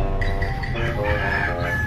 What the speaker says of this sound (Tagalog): gisugo ra ba ko palawg sa manok